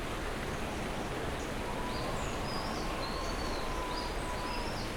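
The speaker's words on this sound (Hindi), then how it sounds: "एक नदी का शोर सुनाई देता है, चिड़ियाओं की चहचहाट सुनाई देती है" A mountain river rushes as a steady, loud broadband roar across a high alpine meadow (bugyal) near Gamshali village in the Niti Valley of Uttarakhand, with several small birds chirping faintly on top.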